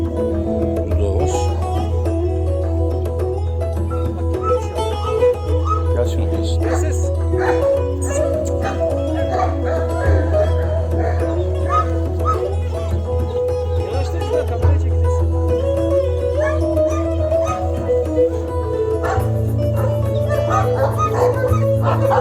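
A mastiff gives short yips, whimpers and woofs at close range, steady under continuous talking.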